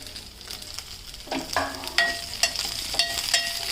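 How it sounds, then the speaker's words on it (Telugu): Nalleru stems frying in a kadai pan give a light sizzle, with louder scraping stirs and clinks against the pan every half second or so, close by and without talking. "అదే కళాయిలో మళ్ళీ నల్లేరుగడ్డలు వేపిసుకోవడమే దగ్గరికి."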